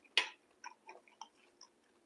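Someone chews crunchy cabbage spiced with chili flakes, eaten alongside rice and peas: a sharp crisp bite up close, followed by several softer, irregular crunches.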